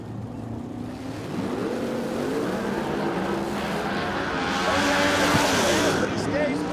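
Drag race cars in an Exhibition Pro Modified event at a drag strip, their turbocharged engines droning loud and steady with a rising whine as the turbos spool, growing louder near the end, under a commentator's voice.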